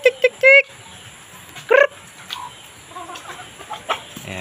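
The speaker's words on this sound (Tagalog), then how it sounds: "Pipili tayo sa ating mga manok." Native Bisaya chickens in a rural farmyard give short, loud clucks and squawks in a quick cluster at the start and again a moment later, followed by softer scattered calls against a quiet background.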